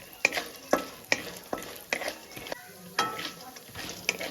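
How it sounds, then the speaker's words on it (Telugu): Urad dal, green chilies, cumin and mustard seeds sizzle softly in oil over a slow flame, broken by a series of sharp spoon scrapes and stirs against the pan roughly every half second. "ఇది కూడాను బాగా వేగాలండి స్లో ఫ్లేమ్లోనే వేగాలి"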